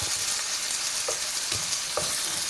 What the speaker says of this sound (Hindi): अब हम लोग इसको हल्का सुनहरा होने देंगे ताकि प्याज